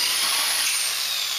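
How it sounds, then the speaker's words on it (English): A power drill boring horizontally through an aluminium tube on a WeeRide Pro Pilot child tagalong bike: a steady, loud, high-pitched grinding whine held for the whole moment, with no voices. "and then to attach that, drill through"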